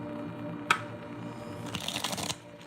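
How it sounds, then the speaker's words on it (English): A deck of tarot cards shuffled by hand, with a sharp snap, then a soft flurry of riffling cards close by in a quiet room. "Okay, one more shuffle."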